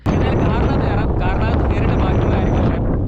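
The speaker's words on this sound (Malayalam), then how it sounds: "പുറത്തേക്ക് ഇറങ്ങാൻ നോക്കിയപ്പോഴത്തേനും നല്ല കാറ്റ്" Loud, constant wind buffets the microphone, a dense roaring rumble that barely lets up for the whole few seconds.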